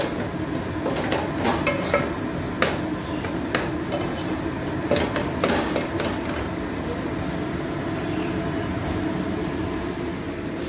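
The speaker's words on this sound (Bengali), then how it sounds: "একটু ভাজা ভাজা যে হয়ে যাবে তখন এর মধ্যে ধনেপাতাকে কুচিয়ে অ্যাড করবো" A spatula stirs and scrapes potato filling frying in a pan with chopped coriander, steady soft sizzling with sharp utensil scrapes and clinks against the pan, close and continuous, no one talking.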